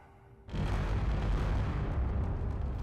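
Homing missiles launching and detonating in the space game Space Engineers, a sudden loud onset of sustained rumbling, booming blasts that continue densely without letting up.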